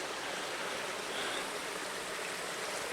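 Water of Callahan Run flowing past summer trailside campsites, a steady soft rushing wash with no breaks and no voices.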